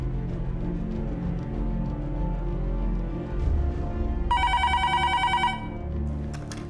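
A telephone rings during a call, a bright trilling ring near the end over steady indoor background hum, with no speech.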